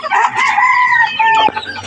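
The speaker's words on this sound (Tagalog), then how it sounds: "Ayun, may tandang, oh." A rooster crows once nearby, a loud, drawn-out call lasting nearly two seconds that ends with a brief rough note.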